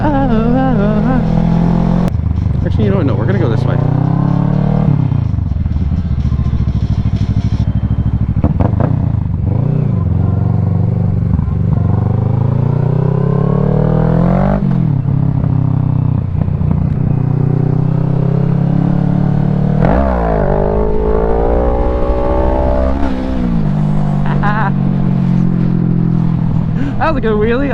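A Kawasaki Ninja 650 engine revs loudly during a wheelie on a twisty road, a continuous close roar whose pitch climbs and falls with the throttle over steady wind rush.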